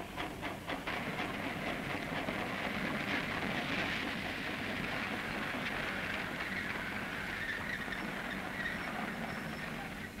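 Emergency food trains roll along the railway across the reopened Greece–Yugoslavia frontier in the postwar years: a steady, fairly close rumble with faint rhythmic wheel clatter lasting throughout, with no voices.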